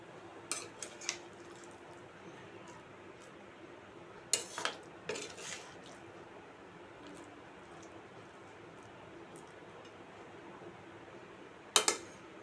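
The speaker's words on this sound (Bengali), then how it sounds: "এবার এটা কড়াই থেকে বাটিতে নামিয়ে রাখবো" A vegetarian taro and potato curry being moved from a wok into a bowl, heard as a few sharp clinks and scrapes of a utensil against metal over a low steady room hum, with long quiet gaps between them.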